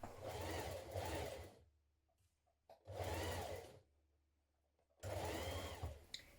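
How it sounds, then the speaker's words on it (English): A sewing machine stitches around a coat pocket seam in three steady whirring runs of about a second and a half each, separated by quiet pauses with small handling clicks, close and clear. "we're going to sew along here, all the way around this pocket area and then down this side"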